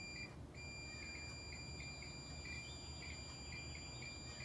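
A multimeter's continuity buzzer sounds while probing the idle throttle switch pins on a Mercedes-Benz W124 300E, giving a faint repeating high beep pattern over low background hum.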